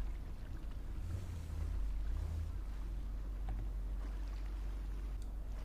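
Boat engine in the video game GTA V, a steady low rumble that runs throughout under faint wind-like water noise, holding fairly constant with slight swells, no talk.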